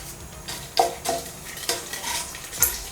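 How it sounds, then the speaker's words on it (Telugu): Urad dal frying in a pan with a soft steady sizzle, broken by several scraping stirs and light clinks of a spoon against metal, close and alone. "ఉరద్ దాల్ మినప్పప్పు. ఇది మనం మెల్లిగా సిమ్మర్లో కుక్ చేసుకుందాం."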